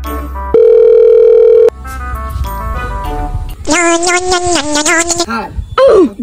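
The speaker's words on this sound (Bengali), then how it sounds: "স্যারের কাছে ফোন করতে হবে।" A telephone call is placed: a steady dial tone holds for about a second, then a repeated electronic ringing tone pulses for over a second, with voices talking between and after.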